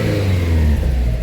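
A 2010 Subaru Legacy GT with the 2.5-liter turbo engine and freshly replaced motor mounts revs steadily up close, its deep drone holding loud and even for a moment before dipping slightly.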